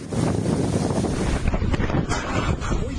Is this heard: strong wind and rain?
yes